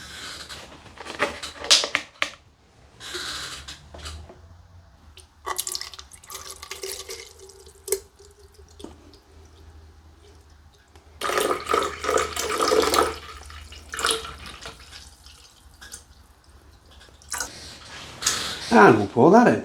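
Aldi apple juice poured into a pot for mulled spiced white wine comes through as intermittent splashing, trickling bursts with light clinks, broken by quiet gaps and occasional voices nearby.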